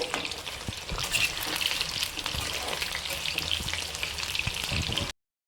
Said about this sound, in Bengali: তেল গরম হয়ে গেছে এবার আমি আলুগুলো ভেজে নিচ্ছি